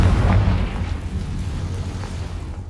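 A Confringo spell explosion in Hogwarts Legacy: a heavy, close boom at the start that decays into a rumbling tail lasting a couple of seconds.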